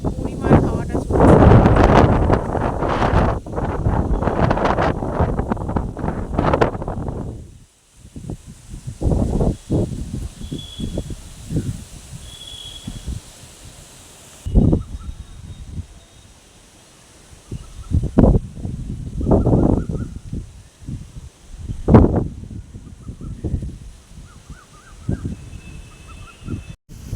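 Strong gusty wind ahead of Cyclone Remal buffets the microphone and rushes through swaying coconut trees, roaring loudly at first and then coming in uneven bursts with quieter lulls.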